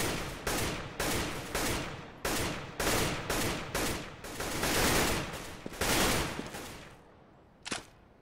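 Rapid automatic gunfire from a Counter-Strike match on the Cache map, heard as repeated sustained bursts broken by short pauses, loud and near, ending with one sharp isolated shot after a brief gap.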